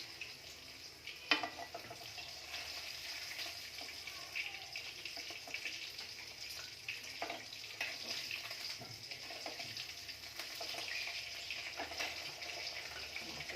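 Whole fresh fish frying in oil in a pan, giving a steady, quiet hiss and crackle throughout with a few brief spatters, heard close up and without any voice.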